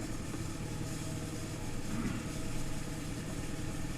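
A tractor engine drones steadily while chain harrowing spring grassland, a continuous mid-low hum holding an even level throughout with no talk.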